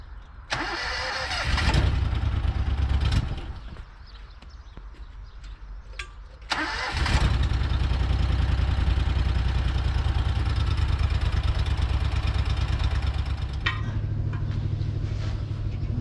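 A car engine cranks and catches, sputters briefly, then starts again and settles into a steady, close-up idle with a firm low rumble that runs to the end.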